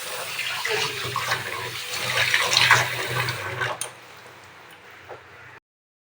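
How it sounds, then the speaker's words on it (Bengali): Tap water gushes over a rohu fish as it is washed, a loud splashing stream that drops to a quieter trickle partway through before cutting off. "মাছটাকে ধুয়ে দেয় এটা হচ্ছে রুই মাছ"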